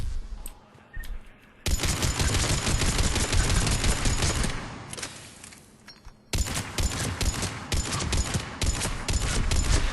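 Mattock rifle fire in Mass Effect 3, two long stretches of rapid, loud shots separated by a short lull, with a quieter pause at the start.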